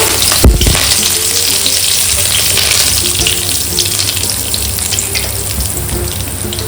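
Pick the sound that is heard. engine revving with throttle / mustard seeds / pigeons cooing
mustard seeds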